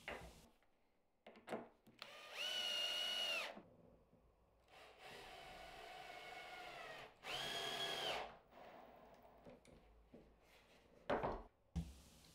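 Power drill driving screws into a glued wooden jig joint for a router dado jig, two sustained whirring runs with faint handling knocks and rustles between them.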